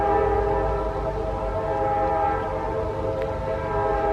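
A train rolls past close to the tracks near a home, a loud, steady low rumble with a sustained tonal hum and a faint brief click partway through.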